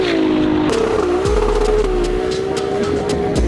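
A Ferrari 296 GTB with a custom exhaust revs loudly and steadily up close, its engine note rising and holding, with a brief deeper swell partway through and no voices.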